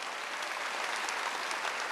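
Congregation applause during a Korean church Wednesday worship service, a steady dense wash of many hands clapping throughout, fairly faint and even, with no voices standing out.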